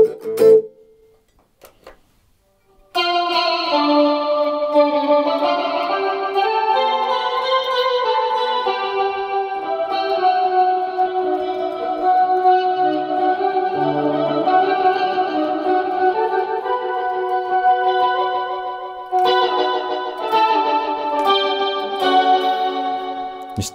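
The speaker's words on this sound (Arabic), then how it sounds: "مستعمل هنا البيتش شيفتر زي ما احنا شايفين، ان انا بعمل صوت موازي لصوت الجيتار وعامل ديلي وعامل ريفيرب وكورس" Electric guitar run through a Boss ME-8 multi-effects unit with pitch shifter adding a parallel voice, plus delay, reverb and chorus, sustaining lush layered chords and melody for about twenty seconds after a brief pluck, alone and fairly loud.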